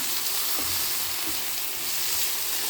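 Onion with chilli and turmeric powder frying in a pan, a steady close hiss and sizzle with faint stirring and no talking.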